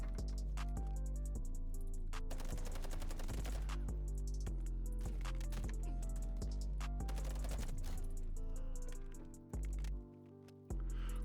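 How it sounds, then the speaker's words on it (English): Rocket launcher blasts and gunfire in a first-person shooter game, dense rapid shots and booms layered over a music score for about eleven seconds. "Rocket launcher shot at somebody."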